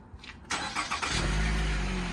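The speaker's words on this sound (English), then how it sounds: "Let's make sure it still remote starts." A 2015 Nissan Rogue is remote-started: a few faint clicks, then the engine cranks and catches at close range and settles into a steady idle.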